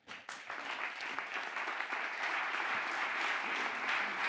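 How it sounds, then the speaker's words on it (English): A conference audience applauds as five cybersecurity standardisation panelists are welcomed, a dense, steady wash of many hands clapping that swells in the first half second and holds loud and even throughout. "Can I get a big round of applause for Stefan Moei, Ben Cox, Jean-Daniel, Toby, and Michaela?"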